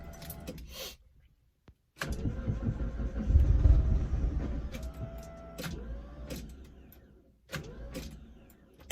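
A car with a failing starter being cranked, a few rough grinding and whirring attempts separated by clicks and brief silences, close and moderately loud.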